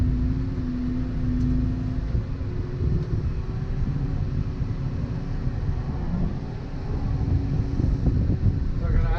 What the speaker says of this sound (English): So many bloody cars and lorries now